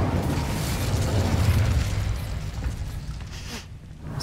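An Incendio fire spell in Hogwarts Legacy erupts in a loud, roaring whoosh of flame that rumbles strongly, then tapers off, with a softer crackling burst near the end.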